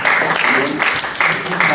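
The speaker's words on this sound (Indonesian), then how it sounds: "Berikan tepuk tangan buat Tuhan" Church congregation clapping for God during a prayer and fasting service, loud dense applause filling a short burst with faint voices mixed in.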